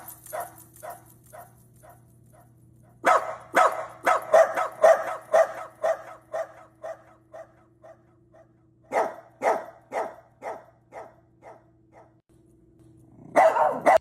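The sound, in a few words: dog barking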